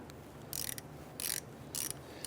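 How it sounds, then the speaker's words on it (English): A 1/4-inch ratchet with a 5/16 deep socket loosens a rust-soaked bolt on the knuckle of a 1999-2004 Jeep Grand Cherokee, giving three short bursts of clicking separated by pauses, close and clear with no talk. "Now we're going to use a 5/16 deep socket in our 1/4" ratchet. We want to go ahead and loosen the bolt here."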